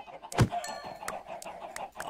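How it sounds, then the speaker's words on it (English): Clucking from a crowd of chickens in a Minecraft-style game, short overlapping calls over a busy background hum, with one louder burst near the start. "there's so much chicken, it's so laggy"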